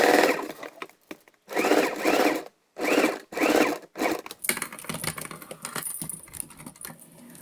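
A sewing machine stitches gather lines through lace for a swagged skirt, running in several loud bursts with brief pauses between them, then giving way to quieter handling rustle.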